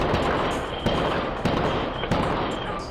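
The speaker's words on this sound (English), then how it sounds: "sounds of gunfire were heard in Terminal 3" Gunfire rings out inside an airport terminal at Los Angeles International Airport, a rifle fired at a security checkpoint: several sharp reports at roughly even intervals over a loud, dense, echoing wash of noise.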